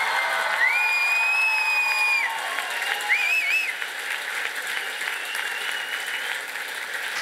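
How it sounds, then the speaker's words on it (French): A crowd at a cultural gala applauds with sustained clapping, a few whistles and whoops cutting through near the start. "je pense que ça mérite notre main d'applaudissements."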